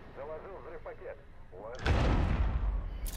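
A burst of gunfire and a heavy blast in the video game Rainbow Six Siege, loud and booming, coming in after a stretch of voices talking and lasting to the end.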